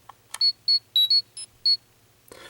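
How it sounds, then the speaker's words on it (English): Five short, high electronic beeps in an irregular sequence from a toy Power Rangers Power Morpher communicator, fairly close and clear, with a brief click and rustle at the end. "I'm going to turn it on, and you'll hear the communicator beep."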